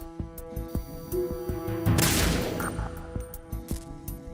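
A single gunshot in Metal Gear Solid 2 on a tanker's deck, a sharp burst with a brief noisy tail over a steady game music bed, no voices.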